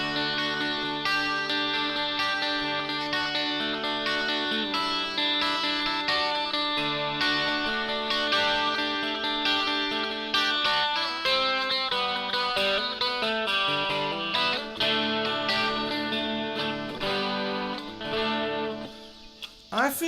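A 12-string guitar run through reverb and chorus effects, strummed and picked in shimmering, ringing chords that sustain loudly and continuously, with a final sharp strum at the end.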